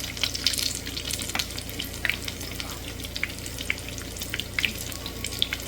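Chili peppers slow frying in a large skillet, two or three at a time, with a continuous close sizzle and crackle, scattered pops and spits rising over the steady hiss, no voices.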